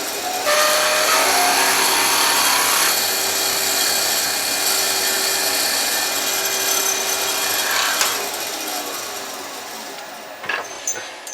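A drill bit held in a lathe tailstock bores into spinning wood, giving a loud, continuous grinding whir that slowly fades before a few clunks near the end.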